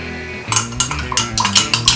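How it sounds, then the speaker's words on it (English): A bar spoon clinks and rattles against glass and ice while stirring a RumChata cocktail, a quick irregular run of bright taps close up, no voices. "just a couple drops and then we'll stir it"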